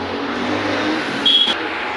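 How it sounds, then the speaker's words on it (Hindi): A car passes on a highway, a loud close rush of road and engine noise that swells and then eases as the vehicle goes by, with no talk. "पीछे से गाड़ी आ रही है, देख सकते हैं गाड़ी आती रहती है।"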